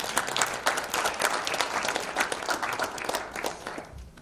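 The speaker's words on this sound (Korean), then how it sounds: "뜨거운 격려의 박수 부탁드립니다." An audience at an international forum on North Korean human rights, marking the 70th anniversary of the UN Universal Declaration of Human Rights, gives warm applause to welcome a panelist. The claps are dense and close, then taper off at the end.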